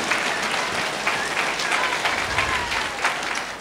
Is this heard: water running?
no